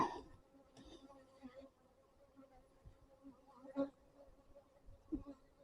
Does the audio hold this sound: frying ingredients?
no